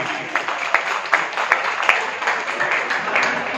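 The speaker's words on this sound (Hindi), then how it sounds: "जोरदार ताली है" Crowd applause at a Vaishya Samaj community gathering in Rampur: a dense, steady wash of many hands clapping, with a few sharper claps standing out and no break in the sound.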